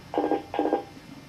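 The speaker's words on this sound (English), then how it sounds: "the phone. Just ignore it." A telephone in the room rings during an interview, two short trilling bursts in quick succession, clear and fairly close, with no one talking over it.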